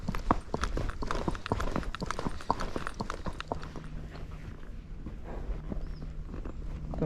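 A Tennessee Walking Horse's hooves clip-clop in a steady, fairly close rhythm along a trail at Folsom Lake, with brush rustling around them and no voices.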